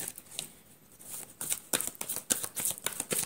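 Oracle cards shuffled by hand during a Hindi tarot reading, giving crisp, close riffling and flicking bursts that grow busier and louder in the second half, with no talking.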